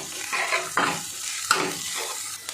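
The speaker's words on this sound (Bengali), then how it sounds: "একটু নেড়ে নেব" Beans and carrots frying in a pan with salt and chopped ginger, stirred in several scraping strokes over a steady close sizzle, no voices.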